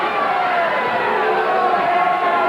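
A packed wrestling arena crowd at a 1986 WWF event keeps up a dense, steady roar of cheering and shouting, loud and continuous throughout, with a commentator talking over it.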